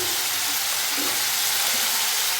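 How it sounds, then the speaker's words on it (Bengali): Dried peas for ghugni, seasoned with salt and turmeric, fry in a hot pan with a dense, steady sizzle that stays loud and even throughout, with no voices. "এটাকে ভালো করে এখন কষে নেবো"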